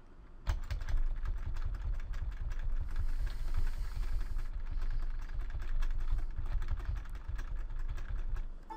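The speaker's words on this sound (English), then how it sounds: "And you'd repeatedly tap those keys, okay?" Someone rapidly and repeatedly taps the left Ctrl, T and I keys on a computer keyboard, making a dense, steady clatter of keystrokes that runs for several seconds, close and alone without speech.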